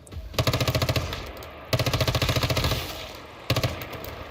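Rapid automatic gunfire from a shooting game in a karaoke arcade rattles out in three loud, close bursts of evenly spaced shots, separated by brief pauses, with no talking over it.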